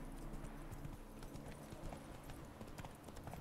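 Hooves of a horse clip-clop steadily in a Witcher 3 video game, a quick repeating gait close by over ambient game sound, with no talking.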